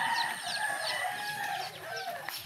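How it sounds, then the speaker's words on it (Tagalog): Backyard chickens, hens and a rooster, cluck and crow together before feeding, a busy overlapping chorus of squawks and calls close by, loud and continuous with no talking. "Ayan, mga manok ko."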